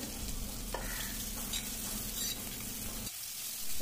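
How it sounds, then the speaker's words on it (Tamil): A bitter gourd mixture frying in coconut oil in a cast iron kadai, a dense continuous sizzle close up with faint stirring scrapes, cutting off abruptly near the end. "எண்ணெய் சேர்த்த உடனே இப்போ கலந்து வச்சுருக்க பாவக்காய் கலவையை அப்படியே சேர்த்துட்டு"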